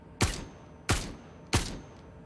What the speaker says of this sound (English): Sometimes I like to do single fire